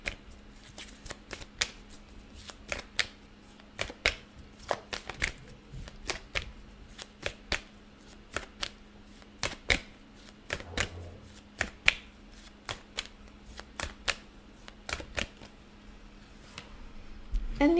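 Tarot cards being shuffled by hand, a steady series of crisp riffling snaps and taps repeating roughly once a second, close and clear over a faint background hum.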